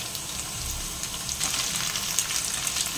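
Potatoes and onions sizzle steadily in hot oil in a pan while a fish-head cabbage dish is cooked, with a dense, continuous crackle and no voices.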